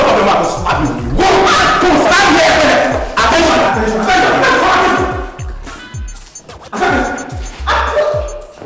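A dog barks in repeated yips and bow-wows amid a noisy indoor scene, with music and a crowd of voices around it; the barking comes in bursts across the clip, fairly loud and close.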